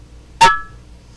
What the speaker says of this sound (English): This sound signifies that this jar has sealed.